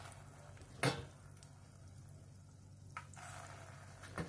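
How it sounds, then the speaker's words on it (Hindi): Moong dal bhajiya fritters frying in hot oil, a soft, quiet sizzle heard close up, broken by a sharp splash or clatter near the start and a couple of smaller bumps later. "इधर तेल हमारा हो गया है, अब हम इसमें भजिए को तलेंगे।"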